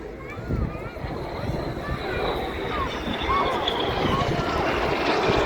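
Red Arrows jets at a 2023 Scotland airshow, a distant rising roar of aircraft passing over, heard under steady commentary on a loudspeaker.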